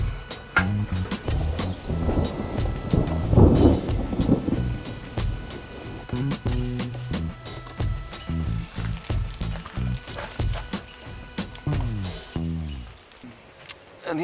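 A bee vacuum runs in bursts of strong suction, with irregular clicks, thumps and rattles as bees are drawn in, the motor surging and easing through the stretch and stopping near the end.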